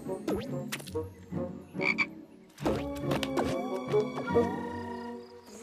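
Frog croaking in a cartoon, a run of close, loud, creaky croaks in uneven bursts with a short pause before a busier second stretch, no speech.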